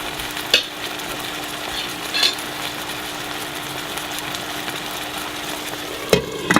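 A vegetarian curry stew bubbles and sizzles in a covered pot, a steady close simmering hiss with a few louder clinks of the lid or spoon, and no talking.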